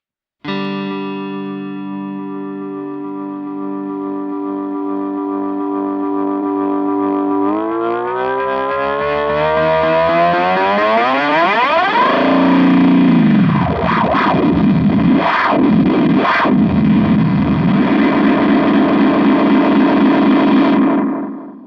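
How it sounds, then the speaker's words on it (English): A sustained distorted guitar tone runs through a delay, then swells into howling, pitch-sweeping feedback that warbles and pulses loudly until it cuts off. "It can also feedback like an analog delay, not the same, but it's a very useful sound"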